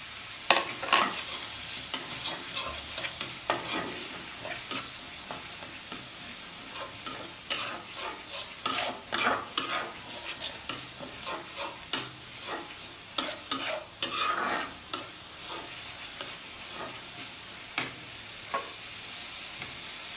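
Garlic paste and water hit a hot frying pan and are stirred, with steady sizzling under repeated scraping, clicking strokes of a utensil that come in quick irregular bursts throughout.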